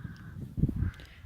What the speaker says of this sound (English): here it's just been, you know, dozens and dozens of crows